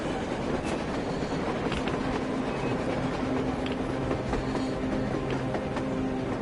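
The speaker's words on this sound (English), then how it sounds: "A train! A damn train on the surface!" A train passes on the surface in a post-apocalyptic video game, making a steady, loud rumble with metallic clatter and faint squealing wheels that carries on for several seconds without any talk.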